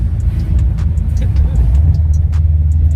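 Deep, rumbling engine of a Subaru WRX STI making over 400 wheel horsepower idles and revs loudly close by, a steady low growl with faint ticking; a voice can be heard over it.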